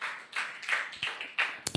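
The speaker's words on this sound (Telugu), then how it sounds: "గట్టిగా చప్పట్లు కొట్టి ప్రభు నామమును మహిమపరుద్దాం." A church congregation claps in a quick rhythmic run of sharp hand claps, heard at a moderate distance and fairly soft overall.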